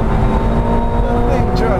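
A McLaren 720S engine drones loud and close under hard acceleration, a dense steady roar with a rising whine suggesting turbo and shifting gears, heard from inside the car.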